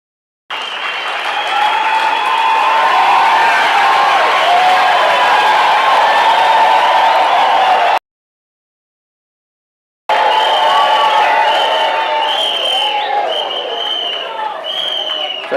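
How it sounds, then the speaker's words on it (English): A large graduation ceremony audience applauds at a university autumn ceremony, a loud, dense, sustained clapping that cuts off abruptly midway, then resumes just as strongly after a short silence. "stand and give them a big round of applause"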